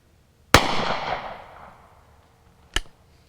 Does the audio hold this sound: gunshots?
yes